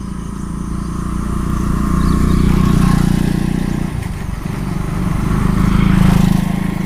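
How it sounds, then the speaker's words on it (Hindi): Motorbikes pass by outside in a continuous loud rumble of engine noise, swelling and easing as they go, with no voices over it. "ये बाइक वगैरह जाते हैं तो वॉइस आ रहा होगा, नॉइज़ आ रहा होगा"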